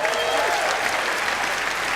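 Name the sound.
audience applause at a comedy show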